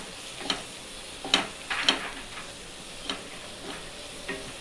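Chili powder stirred into hot oil in a pan, with a faint steady sizzle and several scraping, clattering stirring strokes spaced irregularly, close and moderately quiet.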